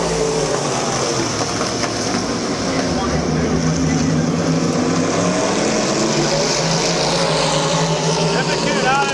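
Modified race cars in a heat race at Midvale Speedway, a dense, loud, continuous engine roar with several cars blending together, steady throughout and close.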